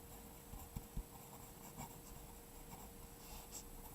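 A pen writes on paper in a quiet room, producing faint scratching strokes with a few soft taps, low under a steady background hum.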